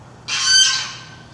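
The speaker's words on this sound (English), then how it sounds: "Shut up, geese!" A single loud, harsh goose honk close by, rising and then trailing off.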